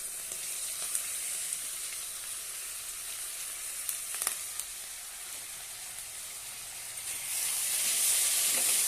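Grated potatoes sauté in a pan with a continuous soft hissing sizzle, fairly faint and even, with a few light clicks and a brighter surge of hiss near the end.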